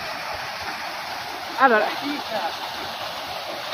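A mountain stream rushes steadily at a ford, its even hiss and babble filling the background while someone speaks briefly over it.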